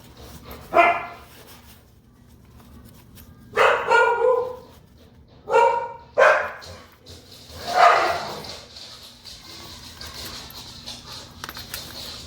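Dogs bark in about five loud separate bursts, some doubled, with quiet pauses between them and a faint background hum; no one speaks.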